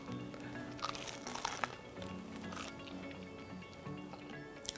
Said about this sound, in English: Time for a bite, don't you think?